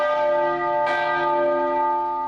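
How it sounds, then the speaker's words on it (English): A church bell forged at the Marinelli Foundry in Molise, Italy, rings a single clear toll that hums on with a long, steady, sustained ring. "Bells, this one tolling each noon for the victims of the latest plague, the coronavirus."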